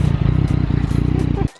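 A motorcycle engine runs close and loud with a fast, throbbing putter, then cuts off abruptly near the end.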